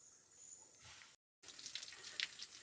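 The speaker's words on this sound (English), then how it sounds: "we have the spring right up there, and we also left a bucket here to collect water" Spring water pouring steadily into a bucket in a jungle, a close, continuous splashing trickle that briefly cuts out and resumes.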